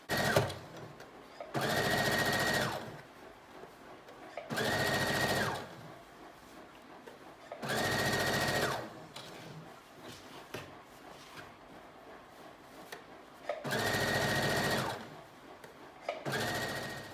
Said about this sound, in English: I'm just going to stitch right along the edge.